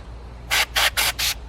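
Four short bursts of compressed air blast debris away from the spark plug area of a 2011 Camaro engine, each hiss loud and close, evenly spaced with brief gaps.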